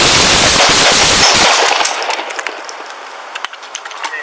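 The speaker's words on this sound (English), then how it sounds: "Shots fired." A rapid burst of gunshots fired during a police shooting erupts loud and close, then gives way to metallic tinkling like spent casings dropping and faint clatter.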